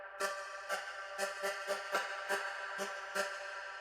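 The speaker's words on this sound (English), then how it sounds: "which is another vocal stab. So there is a gate effect" A gated vocal stab chopped into a rhythmic pattern: about a dozen short, bright, clipped bursts pulse at an uneven syncopated pace, each cut sharply to silence between hits.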